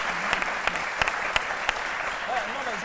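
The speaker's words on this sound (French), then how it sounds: "on va l'applaudir." A television studio audience on a midday talk show applauds in tribute to Kone Oumar, with steady clapping and a few sharper individual claps standing out; a voice briefly speaks underneath.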